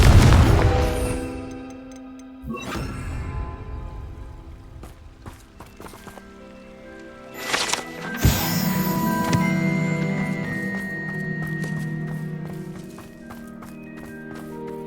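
A Confringo fire spell bursting in Hogwarts Legacy, a loud booming impact at the start, then further blasts, a sharp crack near the middle, and a sustained rumbling, crackling burn.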